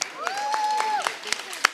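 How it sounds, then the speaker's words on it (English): Brief scattered clapping from an audience at a film festival celebrating diversity and inclusion, fairly faint and sparse under a tonal background. "Can we all really clap for them?"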